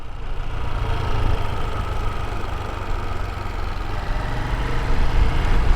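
A small Honda 150 motorcycle engine runs steadily at a low, even idle-like drone, close and continuous throughout with no talking, on a mountain ride through northern Vietnam near Ha Giang.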